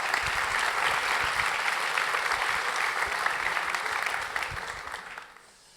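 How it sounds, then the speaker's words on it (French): Audience applause at a French startup conference, a dense, sustained roomful of clapping that holds steady for several seconds before thinning and fading out at the end. "Merci de les applaudir."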